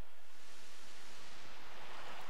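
Sea surf washing at a cave exit in the Pokémon Mystery Dungeon game, a steady broad rush of waves and wind, constant and fairly loud with no voices.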